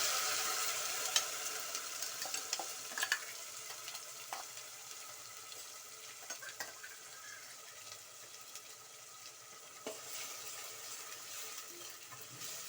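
Ground masala being stirred into a hot pan for obbattu saru, a soft continuous sizzle with scattered scraping and clicking of the spoon, fairly quiet and close, with no talking.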